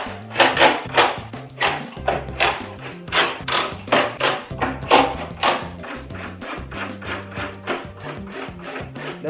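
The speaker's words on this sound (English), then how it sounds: "And so now I'm going to go through and tighten all the cams." Cam locks are tightened one after another on an IKEA HEMNES 8-drawer dresser. Sharp wooden knocks and scraping turns repeat at an irregular pace, close and fairly loud.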